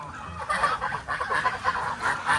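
Geese honk repeatedly in a noisy, overlapping chorus, loud and close, with harsh calls rising and falling without pause.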